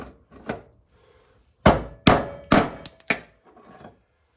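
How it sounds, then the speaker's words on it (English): Four loud, sharp metallic hammer strikes in a slow, uneven sequence, knocking a bearing out of a Toro TimeCutter MX5060 mower deck, preceded by a few lighter taps and followed by faint clinking. "get a little bigger hammer. Try again."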